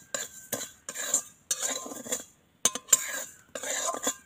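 Sugar being stirred in a wok to make caramel for mishti doi, close clattering scrapes and knocks of a utensil against the metal in several short bursts separated by brief pauses.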